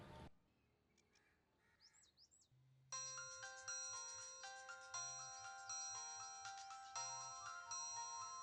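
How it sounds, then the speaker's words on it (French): Telephone ringing with a melodic electronic ringtone, bright repeated chiming phrases in regular bursts after a few faint chirps, loud and close with no talk. "Le téléphone sonne."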